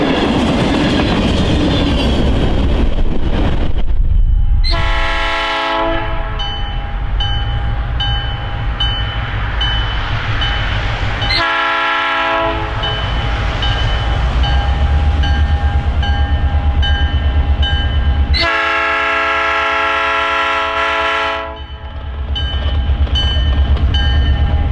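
Freight train with locomotives passing close by, the loud wheel rumble and clatter running throughout, as a multi-tone horn blasts three times in long bursts.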